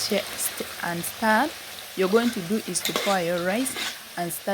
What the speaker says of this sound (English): stirring it as you keep on frying it.